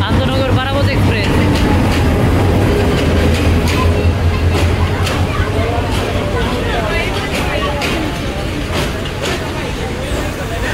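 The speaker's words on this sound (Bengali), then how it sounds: "মাঝগ্রাম জংশন স্টেশনে প্রবেশ করলো আন্তনগর পারাবত এক্সপ্রেস।" The Parabat Express intercity train rolls into Majhgram junction station on the Sylhet to Dhaka line, a loud continuous rumble with rhythmic wheel clatter under steady crowd murmur and talk.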